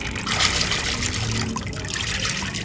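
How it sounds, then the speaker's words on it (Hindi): Water streams steadily into a cooking pot holding beef and soaked lentils, a continuous close splashing trickle with no pauses. "उतना पानी डालेंगे जिसमें बीफ और दाल हमारी अच्छी तरह से उबल कर तैयार हो जाए।"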